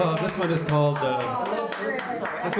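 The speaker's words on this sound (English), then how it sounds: "we forgot our tambourines, so we're going to be clapping instead" A band plays while the audience claps along in place of tambourines, steady rhythmic hand claps mixed under the music and voices, close and continuous.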